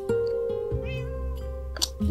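A Minecraft cat gives a couple of clear, close meows over a steady droning game music background.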